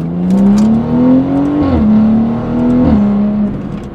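A tuned BMW 340i with a B58 engine accelerates hard from inside the cabin, a loud rising engine drone that climbs through two gears with brief drops at each shift.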